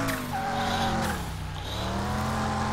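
A car engine in the Fatso's Garage Story Car 2 video game revs on a test drive, with a steady loud hum and some tire squeal throughout, heard alone.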